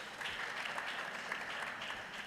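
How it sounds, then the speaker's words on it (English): Delegates at a regional advisory committee meeting applaud to welcome a delegation, a soft, steady patter of clapping that sounds distant and quiet, continuing evenly without speech. "with a round of applause."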